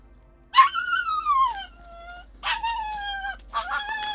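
A puppy stuck in a hole whimpers three times: a long, wavering whine followed by two shorter cries, separated by quiet pauses, close and clear.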